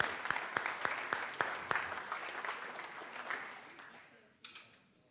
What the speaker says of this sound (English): Once more, please, a round of applause